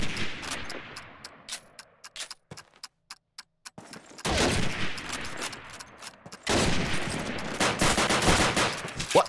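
Colt gunfire in a Call of Duty 2 match: sparse, separate sharp shots at first, then two stretches of louder, denser firing with crackling noise.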